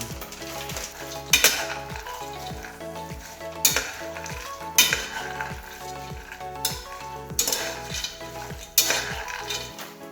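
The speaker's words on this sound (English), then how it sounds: "Now the butter is melted, so you have to put cashew and cook in the slow flame." Cashews cooking in melted butter over a low flame, with a continuous sizzle broken by repeated loud clanks and scrapes of a spoon against the pan; no talking.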